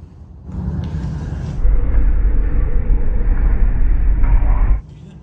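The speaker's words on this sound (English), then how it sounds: "Oh, there's a train." A rumbling, steady roar of a train passing an Albuquerque train yard builds to a loud, continuous rush for several seconds, then cuts off abruptly.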